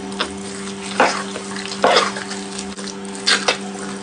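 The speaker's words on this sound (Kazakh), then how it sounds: "Бәрін жақсылап араластырып аламын." Filling for Kazakh asip sausage, seasoned with red pepper, black pepper and salt, being stirred in a bowl: soft wet mixing sounds with a few sharper bursts of squelching and scraping, close up, with no talking.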